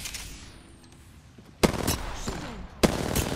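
Gunfire from an R-99 submachine gun in Apex Legends: two sudden loud rapid-fire bursts after a quiet stretch, each a dense rattling volley, the second following about a second later.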